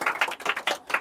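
Clapping for a student in a classroom, roughly five quick bursts of hands in a fast rhythm, close and fairly loud, with no talking.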